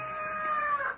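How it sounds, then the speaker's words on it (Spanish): A rooster gives one short, bright crow, close and loud, heard alone without talk. "Gallito"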